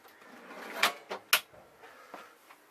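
Deep drawer beneath the cooktop in a Pilote V600 G camper van sliding and bumping, a few sharp close knocks and clacks over a quiet room background, with no talk.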